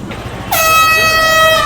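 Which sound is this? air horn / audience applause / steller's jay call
air horn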